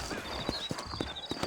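Horse hooves clip-clop at a steady walk on a trail in the video game Red Dead Redemption, a close rhythmic series of thuds with a faint whinny and a high tonal hum running underneath.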